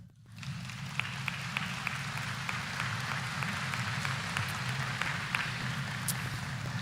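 A large commencement audience at a university graduation breaks into steady, even applause that swells in quickly and holds at a constant level, heard from a distance in a big space.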